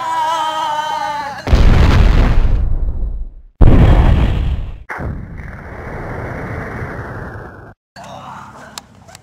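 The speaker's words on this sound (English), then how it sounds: "That's a nuclear bomb." A cartoonish nuclear bomb explosion effect from a tritium-deuterium fusion, sounding as two loud, roaring booms with rumbling decay, followed by a long sustained hissing roar and a brief final burst.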